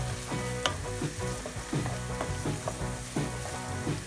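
Carrots and onions sauté together in a hot pan, giving a continuous sizzle broken by repeated scraping strokes of a utensil stirring the vegetables at a steady pace, close and moderately loud, with no voices.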